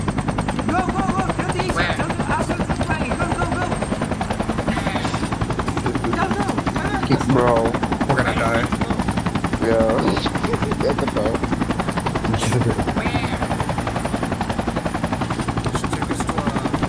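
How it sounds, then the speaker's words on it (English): A helicopter in the Project Reality military video game drones loudly and continuously with a thumping rotor, while players talk over it throughout. "Or we just get the chopper."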